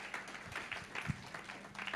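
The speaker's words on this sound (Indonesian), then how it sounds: "Tepuk tangan buat Allah kita." A church congregation applauds at a sermon, a brief, faint, distant patter of clapping hands.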